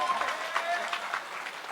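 Audience members clap in scattered bursts at a Hindi kavi sammelan poetry recital in Hata, Damoh. The applause is fairly soft and uneven and is mixed with voices.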